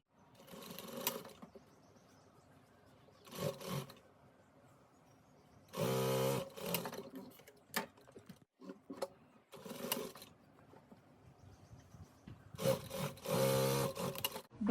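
Sewing machine joining a frill to fabric with a single-side stitch, several short bursts of fast rattling stitching separated by pauses, close and clear with no talk.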